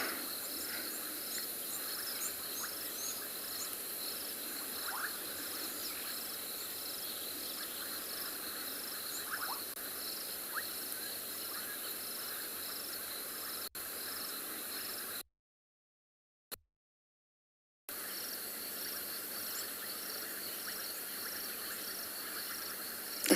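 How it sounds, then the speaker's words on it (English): Bubbling kassina frogs call through a summer night on an African safari, steady pulsing and bubbling notes mixed with a constant insect chorus, with occasional faint distant calls and a brief silent gap. "The sound of the bubbling casino frogs is one of my favourite sounds of summer."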